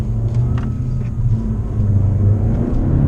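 A turbocharged 2018 Honda Civic Si drives along a road, its engine pulling with a steady, loud low rumble heard from inside the car.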